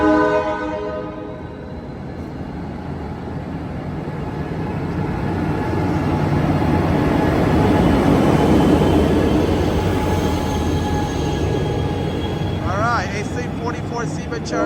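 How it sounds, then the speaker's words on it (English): Amtrak Capitol Corridor passenger train departing Oakland Jack London Square eastbound, with an AC-44 locomotive at the rear: a horn blast opens, then a loud, steady rumble and clatter of passing cars that swells midway and eases, with brief squeals near the end. "that train is going eastbound to Sacramento, the final stop"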